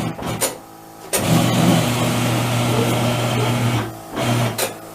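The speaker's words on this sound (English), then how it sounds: "if it's plugged in, it spins your tire around" Atlas TC589 tire changer motor whirring steadily as it spins a tire on the turntable, a loud mechanical hum lasting several seconds between clunks, with no talk.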